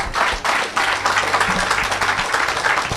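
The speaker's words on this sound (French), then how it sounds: "Acclamez plus fort que ça." A church congregation claps and cheers, rapid dense applause with irregular swells and short dips, loud and close and continuing for the whole stretch, with some voices mixed in.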